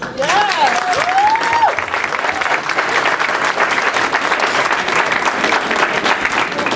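Loud, sustained applause from a crowded audience at a student success dinner, filling the room steadily for the whole clip with a few whoops and cheers mixed in.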